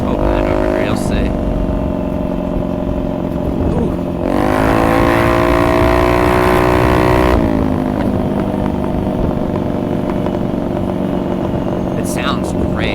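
A Honda Ruckus scooter engine drones steadily while riding on rough roads, with a throaty spiral exhaust that swells louder mid-way as the rider accelerates, then settles back; a voice speaks briefly.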